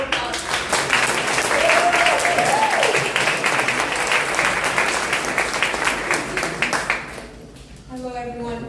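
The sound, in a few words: audience applause for a poet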